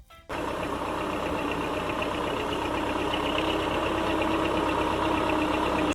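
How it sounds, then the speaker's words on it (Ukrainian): A tractor engine runs steadily, starting abruptly and holding a loud, rough, knocking diesel rumble for about six seconds before cutting off, with no voices. "Так, це трактор."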